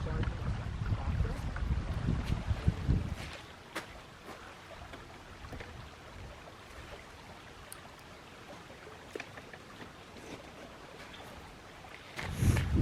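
Wind gusts rumble outdoors in Placerita Canyon, buffeting strongly at the start and again at the end, with a quieter stretch in between that holds faint scattered rustles and taps.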